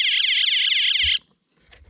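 A predator tripwire alarm set up at a quail tractor blares a loud, rapidly warbling electronic siren for about a second, then cuts off abruptly, leaving a faint thump and near silence.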